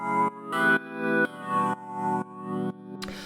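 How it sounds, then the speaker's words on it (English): Synthesized FM key chords from Ableton's Operator in a 124 BPM Detroit house groove: seven or so short, bright chord stabs repeat in a steady, even rhythm, loud and close, with no voices. "It's a pretty simple FM kind of sound."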